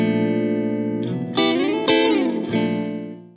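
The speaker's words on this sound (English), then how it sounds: "so today I'm just going to be using the RV3, which sounds a bit like this." Electric guitar played through an RV3 pedal set to a medium-length hall reverb: sustained chords ring out alone with a long, washy tail, a few fresh strums swelling the decay before it fades.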